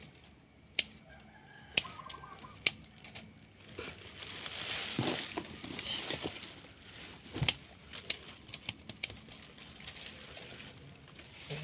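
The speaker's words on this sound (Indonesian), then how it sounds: "Temani burung-burung yang berkicau" Outdoors where a streblus shrub is being trimmed, chickens cluck and a rooster crows amid scattered bird calls and sharp snips, all fairly faint against a quiet background.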